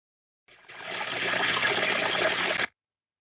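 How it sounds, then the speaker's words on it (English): Water gushes from a broken pipe in a bathroom and spills onto the floor, making a steady, dense rushing hiss for about two seconds before it cuts off abruptly. "Water was gushing from a pipe and flowing relentlessly."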